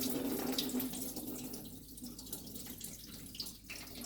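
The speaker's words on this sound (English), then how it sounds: "Just let the water run into your bucket" Water drains from a Pentek Big Blue filter housing into a bucket, a steady faint trickling stream running throughout with no voices.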